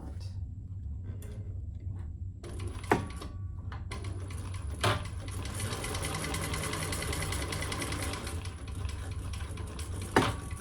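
A sewing machine stitches a wallet near the next card slot, running in a steady rapid patter after a few quiet starts, with sharp clicks now and then and no talk.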